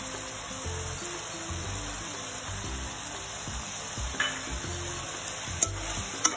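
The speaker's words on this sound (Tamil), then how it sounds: "இப்போ கரம் மசாலா தூள் போட்டு மிக்ஸ் பண்ணிட்டு ஒரு 10 நிமிஷம் முடியும்." Garam masala powder stirred into chicken gravy frying in plenty of oil: a steady low sizzle and bubbling with soft rhythmic stirring and a few sharp clinks of utensil on pan near the end.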